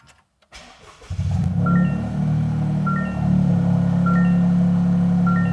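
A car engine cranks and fires about a second in, then settles into a steady, loud, rattly idle with faint high ticking above the low drone; the car has a Cusco pitch stop mount.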